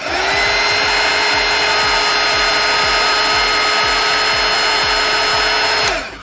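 A loud, steady whine from a heat gun blowing hot air over colored pencil on a Mod Podge-coated black hoodie runs nearly continuously, with a rhythmic scraping pulse underneath, then cuts off abruptly.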